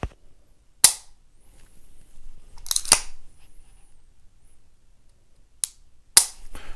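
Dry-fire clicks from a 1911 pistol's trigger and slide: a few sharp, close metallic snaps spaced by quiet gaps, with faint handling noise between them.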